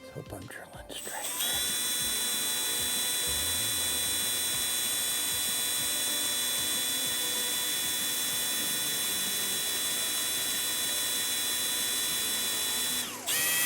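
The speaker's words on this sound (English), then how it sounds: "Let's hope I'm drilling straight." A power drill bores steadily through a tubular lock with a sustained high whine. It runs continuously for most of the clip before stopping near the end.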